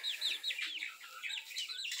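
Backyard chickens and a rooster, heard as a quick run of high-pitched peeping calls, several short rising and falling chirps in a row, fairly close but soft, with no talking.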